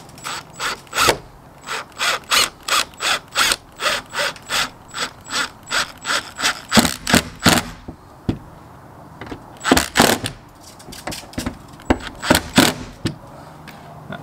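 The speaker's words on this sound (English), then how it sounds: "The reason we're using these longer screws is to get through the insulation and then through the plywood." A drill drives long screws through insulation into plywood during a cargo trailer camper conversion, giving many short, close whirring bursts in a steady series, a brief pause, then a second run of bursts, with no talk.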